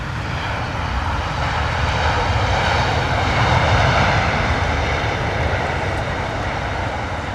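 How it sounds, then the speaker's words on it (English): A Virgin Atlantic Boeing 787 Dreamliner landing at London Heathrow in wet, windy weather. The jet engines give a loud, steady roar mixed with rushing air that holds for several seconds, heard nearby and alone. "Beautiful there from the Virgin Atlantic Dreamliner."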